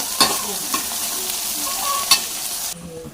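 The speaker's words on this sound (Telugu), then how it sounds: "చికెన్ మొత్తం కలుపుకున్నాం" Chicken stirred through hot oil in a pan, a steady broadband sizzle with a few sharp spoon scrapes and clinks, close and fairly loud, ending with a sudden drop in level.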